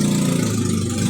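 A motorcycle engine runs at a steady idle, a close, even rumble that lasts for a short moment with no voices.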